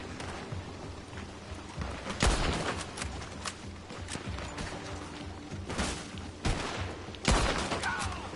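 Gunfire in Red Dead Online, scattered sharp shots cracking out at irregular intervals over a steady background rumble, some close and loud, others fainter and farther off.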